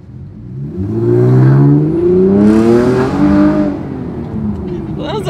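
A loud modified car engine revs hard, its pitch climbing and falling in repeated surges, close and dominant before easing back to a rougher idle.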